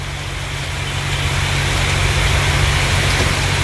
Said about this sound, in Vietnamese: mưa quá trời cả nhà, tính gì về tạnh mưa gì à.